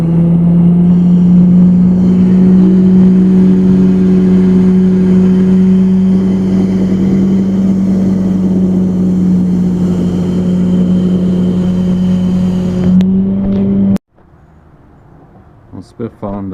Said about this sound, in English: videotape his firewood processor a little bit and tell you it was a Timberwolf